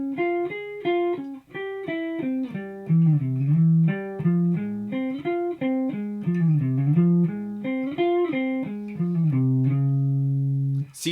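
A guitar steps through a looping chord progression, each chord ringing clearly in a steady rhythm and close up, with no talk over the playing, and it ends right back on the chord where it began.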